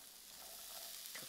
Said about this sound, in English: so my onions can fry out